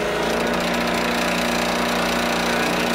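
A buffing wheel dressed with soap compound polishes aluminum on an Atlas lathe setup, giving a loud, steady motor drone with a constant hum and a harsh broadband whir throughout.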